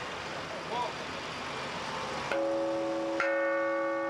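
The large carillon in Chambéry, one of the biggest in the world with about seventy bells, sounds in sustained ringing tones. The strikes come late in the stretch and carry clearly above a soft background rumble.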